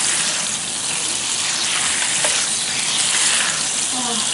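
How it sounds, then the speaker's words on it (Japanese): Sauce for roast chicken boils vigorously in a pan over medium heat, a loud, continuous bubbling sizzle and hiss that stays steady throughout. "ぶわーっと沸騰させて"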